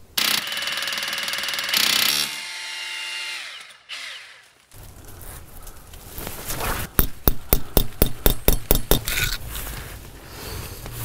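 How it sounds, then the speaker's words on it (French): An eye bolt is screwed into an expanding wall anchor for a climbing-plant support frame, with close mechanical whirring followed by a regular run of sharp ratcheting clicks as it tightens. "Lorsque je vais visser mon piton à œil, la partie mobile conique va écarter la cheville"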